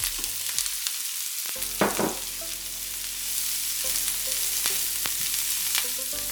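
Chopped white onions and carrots sizzle steadily in hot cooking oil in a pan for a chicken udon stir fry, a close, continuous frying hiss with occasional stirring scrapes and no voices.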